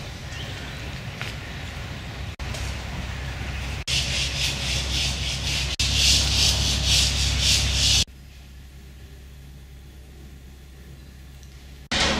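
Metal window shutters being swung open on a residential building during facade renovation, a continuous scraping, rubbing rattle with several abrupt knocks and a louder grinding stretch before it drops to quiet room tone.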